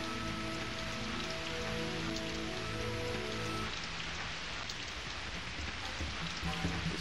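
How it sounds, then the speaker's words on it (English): Steady rain in the video game Lion, a dense continuous hiss of falling drops over low droning game ambience that fades partway through while the rain keeps going. "This rain will make it more difficult for enemy."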